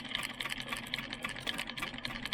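Home sewing machine running steadily with a fast, even mechanical chatter and whir, close and continuous with no talking.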